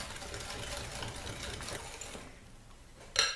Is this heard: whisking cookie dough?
yes